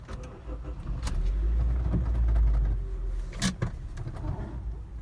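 A car engine turns over and idles with a low rumble, a few sharp clicks and knocks on top, fairly close.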